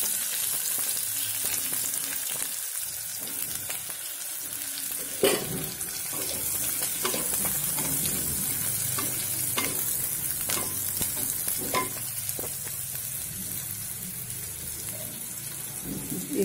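Onions go into hot oil for chana dal sabji and fry with a steady, close sizzle, broken by several sharp scrapes and knocks of stirring; running tap water murmurs faintly beneath.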